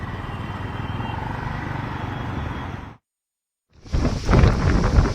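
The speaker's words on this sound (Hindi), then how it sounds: "धूप थी और अचानक मौसम बदला, क्लाउडी मौसम हुआ और आंधी तेज चलने लगी।" Strong windstorm in Delhi under a clouded sky: loud, steady roaring gusts, broken by a brief total silence, then rushing back in rougher bursts.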